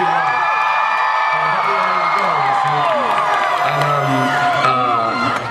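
Convention panel audience at San Diego Comic-Con 2011 for Doctor Who cheers loudly, a sustained roar of whoops and shouts with voices mixed in throughout.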